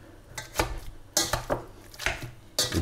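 Cooked, drained sweet potato seasoned with pepper is mashed in a pot, giving a series of dull thumps and scraping clinks from the utensil, irregular and fairly close.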